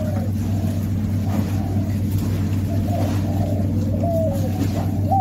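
Caged birds kept for bird trapping give soft cooing calls, several short rising notes spaced out over a constant low engine-like hum.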